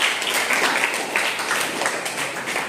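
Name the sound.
applause from quiz audience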